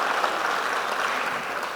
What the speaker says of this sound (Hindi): ताली वाली भरपूर बजा सकते हैं आप लोग